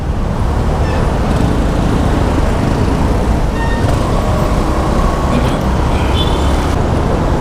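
Steady road traffic noise heard from inside a car in heavy city congestion near a mall, a constant loud rumble of engines and tyres with no clear breaks.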